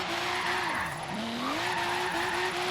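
A Toyota 2JZ-swapped FR-S drifting in Forza Horizon 3, engine droning at high revs while tires squeal and skid continuously, the engine pitch dipping and climbing as it slides, loud and close with no talk.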